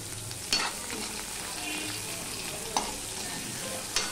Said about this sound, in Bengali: পেঁয়াজটা দেখো কিছুটা ভাজা হয়ে গেছে, পুরো লাল হয়নি।